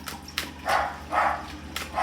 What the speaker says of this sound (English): What is my doggy barking at?